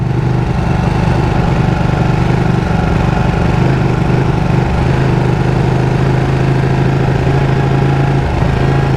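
A Ducati Panigale 899/959 motorcycle engine runs while the bike is ridden along uneven streets, a loud, steady, close droning hum that continues without a break and with no voices.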